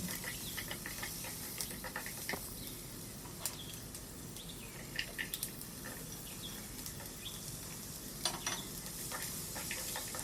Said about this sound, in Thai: ผัดให้มันสุกไปสักพักหนึ่งแล้วเราค่อยใส่ฟักทองนะ